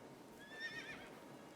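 A horse whinnies in the video game AI: The Somnium Files at moderate volume over a steady background hum, the call rising and wavering for about half a second.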